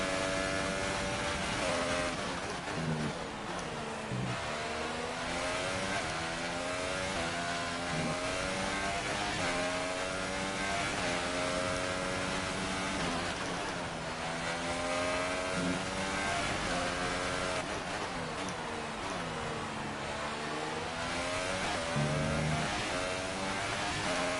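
A Formula 1 car engine in the F1 2018 racing game, career mode, screams continuously at high revs. Its pitch rises and falls through gear shifts and braking, loud and close for the whole stretch.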